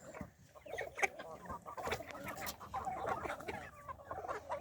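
Chickens on a poultry farm cluck and chatter nearby, with scattered overlapping calls and occasional sharper squawks rising over a busy flock.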